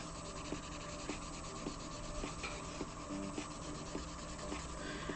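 Crayola crayon rubbed into a portrait drawing on paper, a close, quiet, steady scratchy scrubbing with light rhythmic strokes and no voice.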